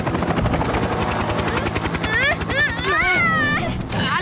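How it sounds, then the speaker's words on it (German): Rotor thudding of a cartoon rescue helicopter at a firefighting scene, loud and continuous with fast rhythmic chopping, while children's voices call out over it. "Und da ist auch schon Tom Thomas mit seinem Hubschrauber."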